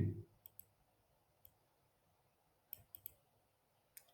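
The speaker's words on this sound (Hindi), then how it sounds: "हम लोग इसको फिर से क्लिक करते हैं।" A computer mouse is clicked several times, giving sharp, close, isolated clicks, some in quick pairs, against near silence.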